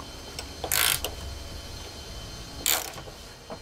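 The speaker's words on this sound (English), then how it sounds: "We're gonna grab an 11/16 socket or wrench and snug" A ratchet socket wrench snugs a threaded fitting while a trailer air braking system is installed on a 2018 GMC Sierra 2500, two short bursts of rapid ratchet clicking about two seconds apart, close and crisp against quiet background.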